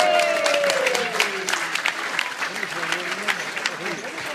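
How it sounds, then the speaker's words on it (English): A crowd applauds a half marathon finisher outdoors, with scattered clapping and cheering mixed with voices and tonal whistles, fading after the first second. "Round of applause."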